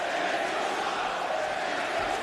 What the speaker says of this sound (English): really letting Sammy Guevara hear it